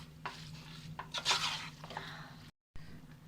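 Mixed non-veg spaghetti noodles stirred in a pan, with soft sizzling and a few scraping, tossing strokes, close but quiet, ending with a short silent gap.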